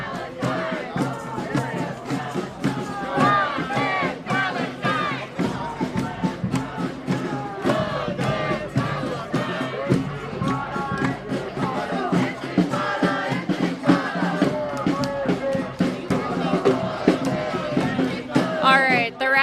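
A protest march crowd at the Chicago DNC convention protests chants loudly in rhythmic bursts, many voices rising and falling together over a steady outdoor din, close and continuous throughout.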